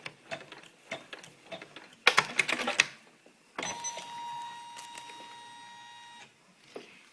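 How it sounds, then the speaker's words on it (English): Embroidery sewing machine stitching ribbon onto polar fleece: a dense burst of rapid stitching clatter, then a steadier mechanical whir with a sustained tone, close and moderately loud, with no talking. "I'm going to let the machine sew 6 again and sew that ribbon in place."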